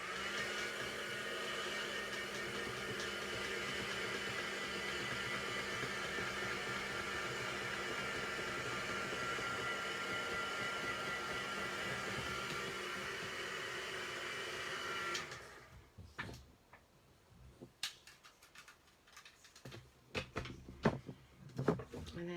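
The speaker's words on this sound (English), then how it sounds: "Just going to give this a blast with a heat gun because VersaFine is a slower drying ink." A heat gun blowing steadily over stamped paper to dry slow-drying VersaFine ink, a constant close whooshing whir for about fifteen seconds that cuts off abruptly, followed by faint scattered clicks and handling noises.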